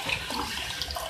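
Water is poured into a cooking pot of beef and potatoes, a brief, soft rushing splash at low volume with nothing else audible.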